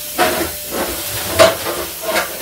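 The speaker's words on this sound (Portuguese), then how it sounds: "Esse barulho, pessoal, tô falando um pouquinho alto por causa da panela que tá cozinhando feijão" A pot of beans cooking on a kitchen stove hisses steam in repeated close bursts, rising and falling every half second or so with no voices over it.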